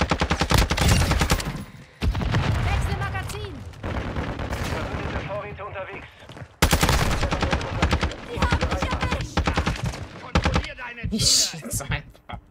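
Rapid automatic gunfire rattles in Call of Duty multiplayer, loud dense bursts in long volleys broken by short pauses, with voices talking over the shooting.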